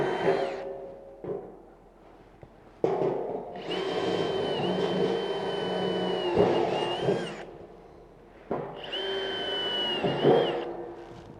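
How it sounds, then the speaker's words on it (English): An XHD cordless drill/driver in drill mode, fitted with a brand new bit, whines up to speed in two long bursts with a short blip between them. Each burst carries a high steady motor tone and grinding as it bores through material, close and fairly loud. "So I've got it in hammer, which I shouldn't. Put it onto the drill mode there. Crank it up."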